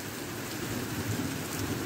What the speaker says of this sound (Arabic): وصلنا الكوري، ها انتم تشوفوا الشتا.